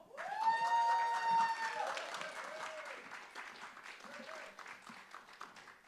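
Audience applause for the first act at a live music night at The Bedford, a scattered room of clapping rising under a loud announcer's voice, then thinning into lighter claps.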